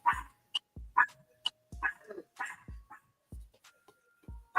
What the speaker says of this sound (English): we got a puppy dog in the background that's a little upset about something